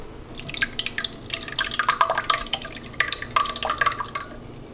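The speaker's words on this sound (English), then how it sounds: "now I use my tomato sauce. Okay, now we put the tomato." Tomato sauce is poured into a pan for penne alla vodka, making close, wet, irregular splattering and dripping sounds for a few seconds with no voices.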